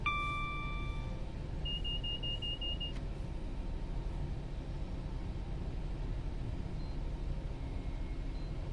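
A short electronic beeping alert sounds as the locomotive overspeed warning in Train Sim World 4, a steady tone near the start that cuts off after about three seconds, over a constant low engine rumble.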